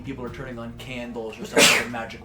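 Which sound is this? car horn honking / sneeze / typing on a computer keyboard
sneeze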